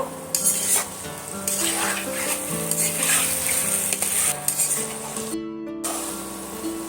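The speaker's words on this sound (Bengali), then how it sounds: "সেটা আমি আলুর মধ্যে দিয়ে দেব দিয়ে আমি আবারও দু মিনিটের মতন এই এইভাবে কষিয়ে নেব" Fried egg pieces and potatoes stirred in a pan: a constant close sizzle runs throughout with frequent spoon scrapes and clinks against the pan, plus a faint tonal hum underneath.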